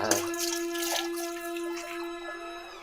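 Water pours from a tap into a vessel, a steady stream with a ringing tone under the splashing, fairly quiet and continuous.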